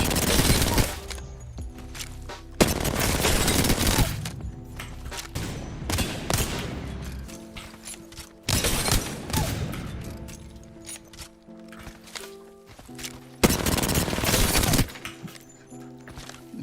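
Bursts of rapid gunfire in the Apex Legends firing range, fired at bots, come in several loud volleys separated by brief pauses, with sharp cracks and ringing tails.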